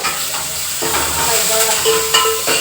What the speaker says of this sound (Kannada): ಈರುಳ್ಳಿ ಬೆಳ್ಳುಳ್ಳಿ ಜಜ್ಜಿಟ್ಟು ಹಾಕ್ತಾ ಇದ್ದೀನಿ ಉಗುಳು ಚೆನ್ನಾಗಿ ಫ್ರೈ ಆಗ್ತಾ ಇದೆ